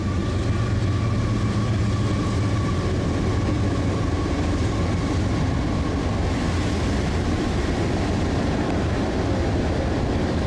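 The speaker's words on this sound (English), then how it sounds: "Train." A freight train rumbles past steadily with a low, continuous roar and faint rhythmic rattling of railcars, sustained throughout without pause.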